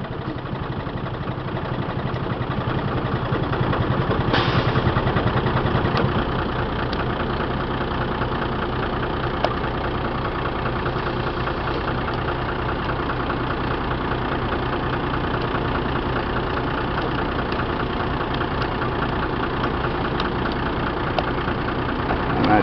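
A box truck's refrigeration unit engine idles steadily at close range, a constant droning run with a brief louder swell near the start and no speech over it.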